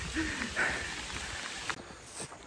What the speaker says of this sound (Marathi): मग आता तुम्ही आता पाऊस बघू शकता एवढा मोठा पाऊस आला